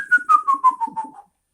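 Linked to the Venezuelan Silbón legend, one clear whistled phrase of about seven short notes slides steadily downward in pitch and then stops abruptly, close and loud, with nothing else heard.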